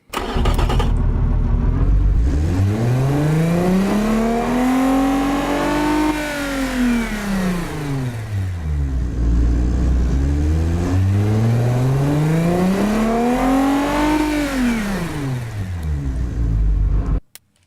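A car engine in BeamNG.drive revs up and back down twice in long sweeping pulls, a loud, coarse, somewhat agricultural drone with a rising and falling pitch, close and alone with no talk.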